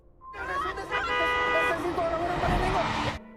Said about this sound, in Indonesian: menyalakan klakson sehingga membuat para zombie itu mengejarnya